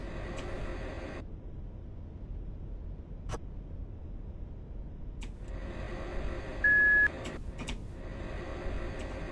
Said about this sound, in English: I think the beeping is just me backing up.